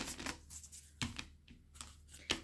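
Playing cards are shuffled quietly up close, with soft riffling bursts and crisp snaps coming in quick irregular bursts.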